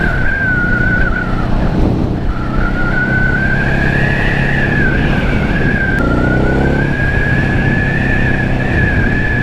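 Ducati Hypermotard 950 motorcycle ridden along a beach road in Jomtien, Pattaya, Thailand: a loud, steady engine drone with a sustained high whine that dips and rises with throttle, heard close throughout.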